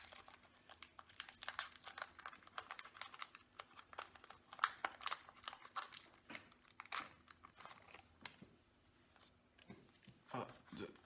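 Pokémon card booster packs are torn open close up, giving a run of crisp crinkling and ripping bursts of foil wrapper with brief pauses between them, while someone talks quietly in the background.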